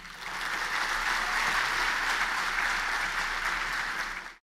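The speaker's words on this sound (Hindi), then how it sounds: "ताली तो बजा दी आपने" Sustained applause from an audience at a youth festival event in Sikkim, dense and steady for about four seconds before cutting off abruptly.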